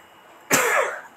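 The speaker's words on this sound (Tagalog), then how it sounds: "Sorry talaga, inuubo ako." A single cough, close and fairly loud, bursting out of quiet room tone and trailing off within about half a second.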